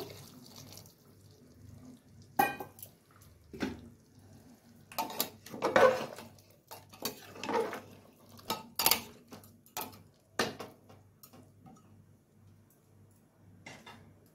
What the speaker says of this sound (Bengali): এখন আমি জল ফুটিয়ে রেখেছিলাম, জলটা দিয়ে দিব ঝোলের জন্য।